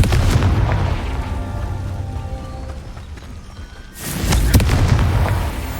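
A Confringo blast spell goes off in the video game Hogwarts Legacy as a heavy, booming burst, followed by a fading rumble, then a second loud blast strikes near the end.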